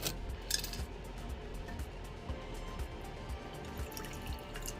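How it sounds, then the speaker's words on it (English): Moon water is poured into a pan in a light trickle of splashes and drips, with faint clinks of the pan, close up and without talking. "I'm just gonna put some of my new moon water in the pan."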